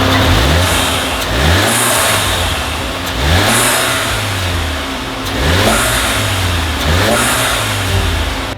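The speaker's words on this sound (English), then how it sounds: "that's a sound clip with the muffler delete and the upgraded turbo inlet pipe" A turbocharged Volkswagen Mk7 GTI engine with a muffler delete and upgraded turbo inlet pipe revs repeatedly, rising and falling in steady pulses, loud and close, with a raw, unmuffled exhaust roar and whooshing turbo hiss.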